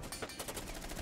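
Rapid automatic gunfire in the Rainbow Six shooter game, a fast string of bursts packed tightly together over one second, fairly muffled and continuous.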